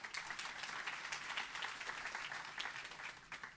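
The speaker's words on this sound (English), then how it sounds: "So a quick round of applause for Charity Right" Audience applause at a tech festival talk for the charity sector, a steady, dense wash of many hands clapping that fills the whole stretch without a break, with no voices standing out.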